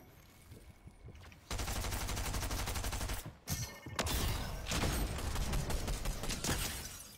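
Video-game gunfire crackles in dense automatic bursts, starting after a quiet lead-in, stopping briefly, then pounding on loud and close.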